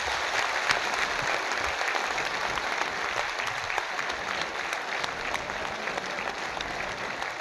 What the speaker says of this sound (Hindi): एक बार फिर से दोनों हाथ से ताली बजा करके स्वागत करते हुए अपने अपने स्थान पर बैठने का काम करें।